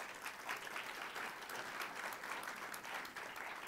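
Soft, steady audience applause at a university recruitment event as a history professor is introduced as moderator, an even clatter of many hands heard from a distance with no talk over it.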